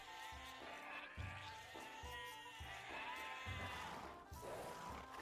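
Sheep in Age of Empires 2 bleating repeatedly, a run of wavering calls close by over a steady game background.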